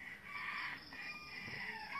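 Several roosters crow over one another at a distance, their drawn-out calls faint and overlapping against a constant background rush.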